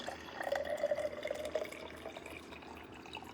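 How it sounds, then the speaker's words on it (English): The last of the coffee is poured into a mug, a brief trickling stream that fades into a few faint drips, heard up close in a quiet room. "I gotta pour the last of my coffee"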